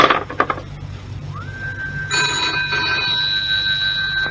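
A telephone rings in a 1965 radio drama, a loud, close electric bell tone that starts partway through and rings steadily to the end after a few brief knocks and clinks, with no voices.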